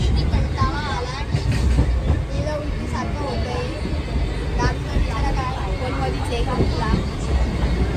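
Rumbling train interior with rhythmic clickety-clack of wheels, while people talk nearby over the steady motion noise.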